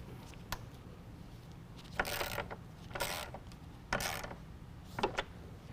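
Bolts being snugged onto a plastic SPEC-D black DRL projector headlight housing, heard as four short ratcheting bursts, each about a second apart, fairly close over a quiet background hum.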